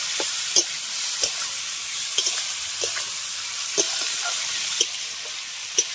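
Ivy gourd (kundri) frying with turmeric and salt in a pan, a steady close sizzle with occasional light clicks of a spatula stirring, no voices.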